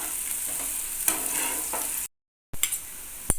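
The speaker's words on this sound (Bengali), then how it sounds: "পেঁয়াজটাকে জাস্ট হালকা একটুখানি ভেজে নিতে হবে" Chopped onion and green chilli frying lightly in a pan give a steady close sizzle with a few scraping stirs, broken by a half-second gap of silence before the frying resumes with sharper clicks.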